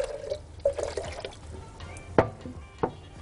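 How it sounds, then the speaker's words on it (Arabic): Water poured from a small vessel into a jar of tomato paste while cooking, giving soft liquid splashes and trickles with two sharper drips near the end, close and moderately quiet. "انا عايزة اخد شوية الصلصة اللي في الجار دول، فهحط لهم حبة مية"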